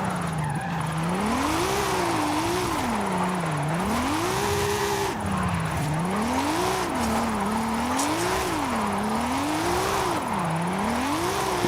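A car engine in Forza Horizon 5 revs up and down in repeated swells while drifting, with tire squeal mixed into the loud, continuous engine noise.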